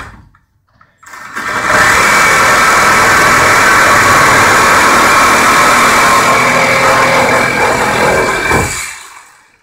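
A Milwaukee M18 Hackzall reciprocating saw buzzes loudly and continuously for about seven seconds while cutting, starting abruptly after a short quiet moment and winding down at the end.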